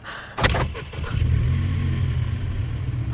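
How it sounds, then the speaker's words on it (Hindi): A car engine cranks over with a few quick bursts, then catches and settles into a steady, close idle, heard alone. "ये गाड़ी कैसे ऑन हो गई?"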